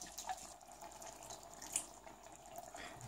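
A flour and water thickener is poured from a small bowl into a pot of pork goulash, giving a soft, faint liquid pour and trickle with a few light splashy drips, heard alone without talk.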